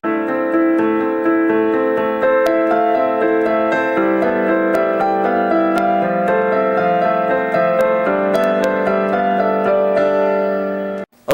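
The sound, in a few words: piano playing improvised harmonized melody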